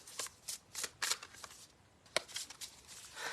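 Silky tarot cards being shuffled, a string of soft papery riffles and slides in uneven bursts, quiet and close with no talk.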